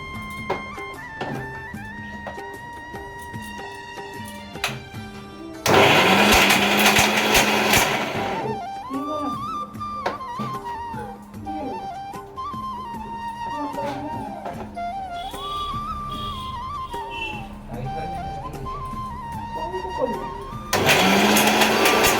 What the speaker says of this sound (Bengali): যাই মিক্সিটাতে ঘোরাচ্ছি না, কেমন একটা মানে ঘর করে আওয়াজ হচ্ছে